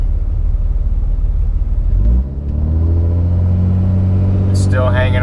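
A Cummins pickup truck with a 48RE automatic transmission cruising while held in third gear, a loud, steady low diesel drone close up, with a voice speaking briefly near the end.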